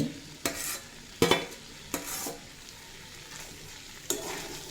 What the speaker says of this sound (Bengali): ছোলার ডাল মশলার সাথে পাঁচ ছয় মিনিট মতো কষিয়ে নিয়েছি এবার এড করে দেব ভেজে রাখা আলু আর পেঁপে